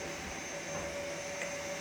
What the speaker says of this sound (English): hoovering this room